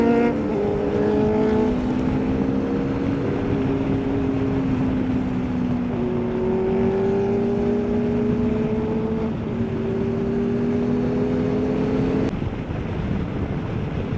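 A Kawasaki Z1000 superbike screams at high revs on a ride, its loud, steady engine wail rising and falling in pitch through gear changes for the whole stretch, with no talk over it.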